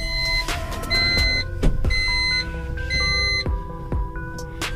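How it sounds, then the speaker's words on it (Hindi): A 2023 Tata Intra pickup's reverse-gear warning beeps in a repeating series of bright electronic tones over the low hum of the idling engine, close by inside the cab. "तो ये आप रिवर्स करेंगे तब जो है ये ऐसी आवाज़ आएगी।"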